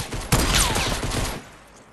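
Rapid gunfire in a shooter game, a burst of close, loud overlapping shots with a sharp crack at the start, then fading out into a quiet tail.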